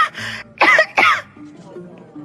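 A narrator's voice imitates a woman coughing after choking on a piece of cake: two loud, harsh coughs close together, framed by brief vocal sounds before and a softer voiced trailing after.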